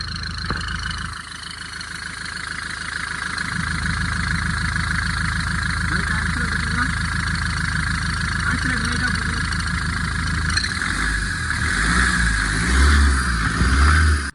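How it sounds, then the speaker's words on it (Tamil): Mahindra XUV500 2019 engine idling at startup with a steady belt noise, a continuous droning hum and whine that rises slightly near the end as the engine revs, heard close up. "இந்த வண்டியில் ஸ்டார்ட் பண்ணும்போது ஒரு பெல்ட் நாய்ஸ் வருது."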